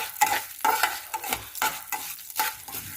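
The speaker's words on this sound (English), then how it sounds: "So we have to dry roast all these things together, guys, until we get the nice aroma." Chana dal and red chilies dry roasting in a pan, rhythmic scraping stir strokes about every half second over a light sizzle, close and clear with no voices.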